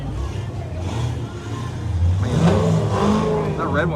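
A car engine revs and rumbles nearby at a car show, rising in pitch around the middle, with people talking underneath.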